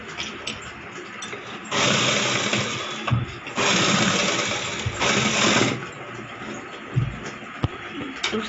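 A sewing machine stitches the shoulder seam of a plain blouse, running in two sustained close-up bursts of a steady whirring drone with quieter pauses between them.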